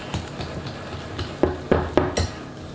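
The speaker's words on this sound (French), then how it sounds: "il ne nous reste plus qu'à mélanger" A whisk stirs chocolate cake batter in a bowl, giving a run of soft, wet scraping strokes that turn into several sharper, louder swishes toward the end.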